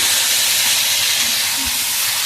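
Masala-marinated chicken pieces fry in a pan for homemade biryani, making a loud, dense, hissing sizzle that stays constant over a short stretch, with no voices.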